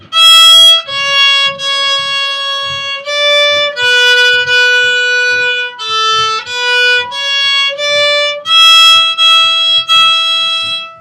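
A violin plays the first line of Lightly Row in sustained, stepwise notes including open strings, with soft bow noise underneath, close and clear, no voices.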